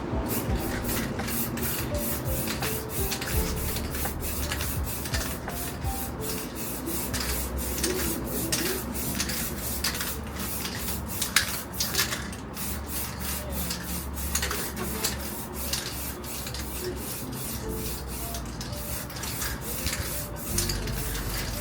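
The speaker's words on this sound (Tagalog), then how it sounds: "in-spray na natin yan ng clear coat na matte" Matte clear coat is sprayed onto a 2010 Subaru Forester SH grille in bursts of hissing aerosol, with scattered rubbing and handling noises, close and steady throughout with no talking.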